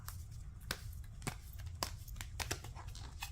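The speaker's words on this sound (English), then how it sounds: "I'm going to pull just one card off the top of the deck after shuffling" A Notes from the Universe card deck being shuffled by hand, giving a run of crisp riffling snaps and papery crinkles at close range over a low background hum, with no talking.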